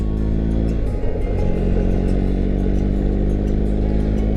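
A motorcycle engine rumbles and revs on a road near Kinglake outside Melbourne, a clattery gear change early on before the note settles into a steady drone, close and loud with no voices.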